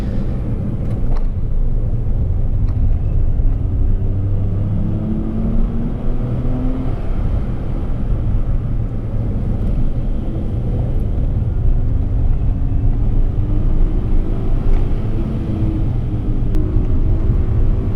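Several Kei cars racing on a wet Japanese track: a continuous engine rumble that rises and falls in pitch as the cars accelerate and shift, loud and steady for the whole stretch, with no talking.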